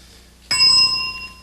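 A game show bell rings once: a bright, sharp ding that rings on and slowly fades, alone over quiet.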